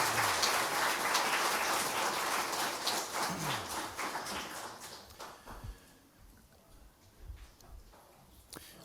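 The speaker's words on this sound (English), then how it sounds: "A round of applause, please." An audience at a town first responder awards ceremony applauds, a dense, rain-like patter of many hands that fades to scattered claps, with a few faint voices near the end.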